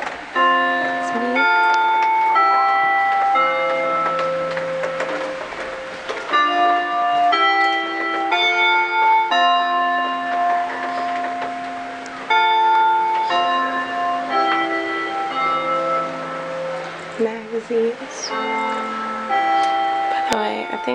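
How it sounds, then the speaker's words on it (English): A Japanese school bell chime plays its familiar multi-note melody, loud and clear with ringing tones sustained throughout, and a voice briefly talking underneath. "I think that every single school in Japan has that same ringtone for a bell"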